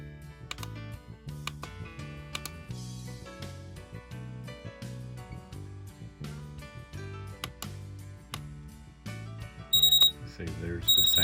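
An RGB LED digital alarm clock, model TX-5, plays its alarm as a repeating electronic melody of bright tones in a steady looping pattern, close by, ending in a few sharper high beeps.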